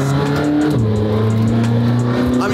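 A McLaren Senna supercar engine hums steadily in auto mode, a loud, smooth low drone with a gear shift partway through and no speech.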